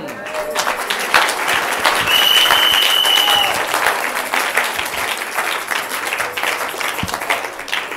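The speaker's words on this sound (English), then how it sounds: "The Lord bless those who are clapping." A church congregation at a morning service claps together in a sustained, dense burst of applause, loud and close throughout, with a brief raised voice rising above the clapping.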